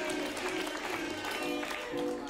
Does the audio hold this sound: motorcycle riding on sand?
no